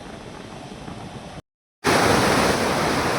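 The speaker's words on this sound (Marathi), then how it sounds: "घोड नदी पात्रात पाणी खळाळून वाहताना दिसून येत आहे" Released water rushes through the Ghod river channel at Kalamb as a loud, steady broadband roar, cut by a brief silent gap before returning even stronger.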